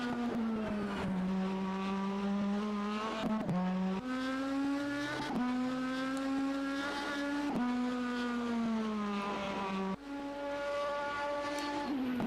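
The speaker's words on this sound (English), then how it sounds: "Testing the rev limiter." Race car engine in a racing video game held against its rev limiter, a loud continuous buzzing drone that rises in pitch and repeatedly stutters and resets in rapid cuts, with no other sound over it.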